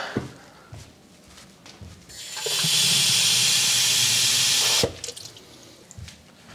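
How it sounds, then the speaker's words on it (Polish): Water pours in a steady rushing stream for a couple of seconds into a scorpion terrarium, loud and close, between quieter handling noises. "Teraz jeszcze przygotujemy po prostu terrarium, czyli na bezczela wlewam wodę i tyle."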